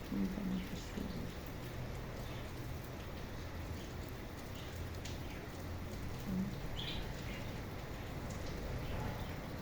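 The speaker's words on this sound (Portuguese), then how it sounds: "O som da chuva, glória a Deus por esse som maravilhoso." Heavy rain falls during a downpour in Recife, a steady faint hiss of drops on surfaces with brief bird calls in the background.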